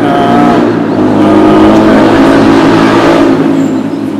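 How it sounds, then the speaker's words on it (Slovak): Motorcycles rev loudly nearby in a park, a dense, continuous engine roar and buzz that stays strong and steady throughout, with no pauses. "Ale však nechoďte tu na tých motorkách, však sedíme v parku."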